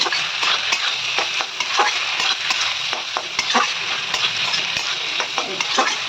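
A curry masala is stir-fried hard in a pan, close and loud. Rapid, repeated spatula scrapes and clinks ride over a continuous sizzle, and no one speaks.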